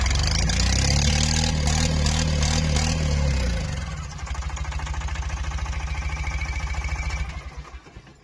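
A loud, raw engine roars with an open exhaust, its heavy rumble easing after a few seconds into a steady, rapid idle pulse before cutting off.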